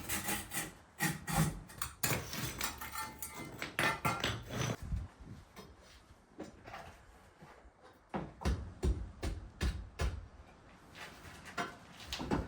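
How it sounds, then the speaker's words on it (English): Old floor tiles being prised and lifted off a floor during renovation work, giving repeated close scraping, knocking and wooden rubbing sounds in irregular bursts, with no talking. "I'm taking the tiles off this floor, then I'll give them a scrub and get them outside"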